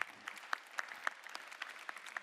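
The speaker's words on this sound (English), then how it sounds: "give her a round of applause." Applause from a plenary audience at an anti-corruption conference, a sustained patter of many hands clapping at a distance, fairly soft with sharper individual claps poking through.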